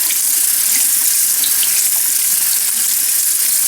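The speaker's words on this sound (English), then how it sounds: "So then I'm going to rinse this off under warm water" Invisalign aligners rinsed under a running warm-water tap at a sink, a loud steady hiss of flowing water throughout with no voices.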